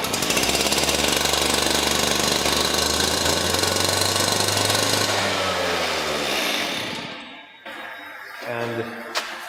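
A small gas-powered saw engine roars loudly at high revs, then cuts out and winds down as the brakeless wheel keeps spinning, leaving a few faint clicks and rattles afterward.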